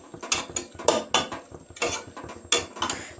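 Mutton curry stirred in a metal pot, a spoon clinking and scraping against the sides in quick, uneven knocks, close and fairly loud, with a faint steady tone behind.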